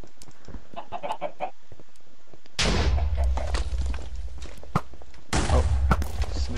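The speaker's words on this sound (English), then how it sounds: "Okay, this is just a weird chicken." Chicken in the video game Minecraft during a multiplayer minigame fight, short clucks at first, then loud bursts of gunfire-like noise and chaotic game sounds crowding over the clucking.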